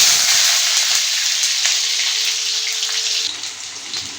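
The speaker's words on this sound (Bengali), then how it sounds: "তেলটা গরম হয়ে গেছে, এতে আলুগুলো ভেজে নেব" Potatoes drop into hot oil in a wok for a Bengali-style khichuri, giving a loud, steady hiss and sizzle that eases slightly toward the end.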